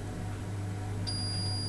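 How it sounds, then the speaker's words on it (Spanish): A multimeter set to the diode scale beeps during continuity testing of a washing machine pressure switch, a single steady high-pitched tone starting partway through and holding over a constant low hum. "escala de medida de diodos para que nos dé pitido y sea más cómodo"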